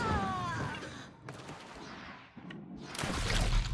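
A few scattered gunshots in the video game Wartales ring out with short decays against quiet ambience, the loudest burst near the end.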